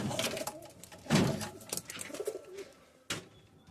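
Pigeons coo softly inside an aviary cage, with one close, low coo standing out among faint rustles and a sharp knock near the end.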